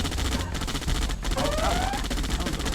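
Dense gunfire striking units in Red Alert 2: Yuri's Revenge, a steady rattle of rapid shots with heavy low thumps, loud and continuous, with a brief synthetic tone partway through.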